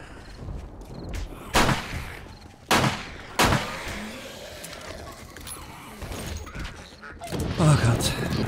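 A few sharp gunshots crack out in the video game 7 Days to Die, spaced apart over a busy background, with a person talking at times.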